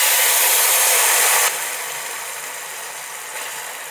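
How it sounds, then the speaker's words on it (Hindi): Water poured into hot cumin tempering for dal fry hisses in a loud, broad sizzle that drops to a quieter steady hiss partway through, with no talk. "जीरा रेडी हो गया, अभी इसमें हमें वाटर डालना है।"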